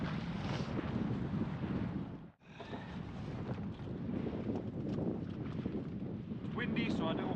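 Wind roaring across a boat at sea while sea fishing in Beadnell Bay, Northumberland, a steady loud gusting rush with a brief lull partway through and faint voice-like sounds mixed in.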